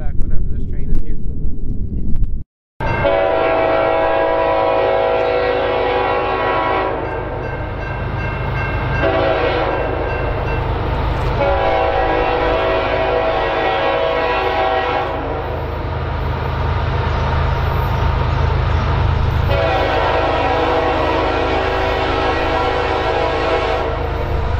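A train rumbles past close by in New York's Capital Region while its horn blares in long, loud tonal blasts over the rolling clatter of the cars.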